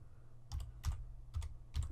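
Typing on a computer keyboard at a command prompt: four short bursts of key clicks, close and fairly quiet, with no talking.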